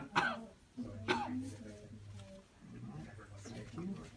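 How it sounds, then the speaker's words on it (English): A few harsh, throaty coughs close by, spaced out over a few seconds with short pauses between them. "Just need you to give me a good cough."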